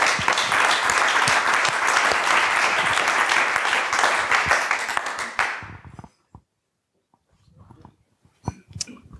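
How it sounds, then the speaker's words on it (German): Audience at the SUBSCRIBE 8 podcasting conference applauding the organizers, loud sustained clapping for about six seconds that cuts off abruptly, followed by quiet room sounds and a few scattered claps or voices. "ein Applaus ist noch notwendig für die Orga"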